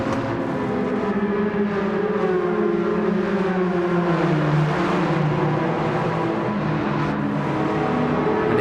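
A race car engine in the Gran Turismo game holds a loud, steady drone, its pitch sweeping slowly as the car powers down a straight with continuous engine noise and no talk.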